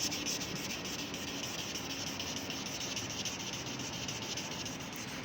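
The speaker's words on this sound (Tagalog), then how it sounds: "Kinakaskas ko lang." Scraping away sticker residue on a cafe surface makes a steady, close, gritty rasping rub that runs without pause for about five seconds, quiet and alone.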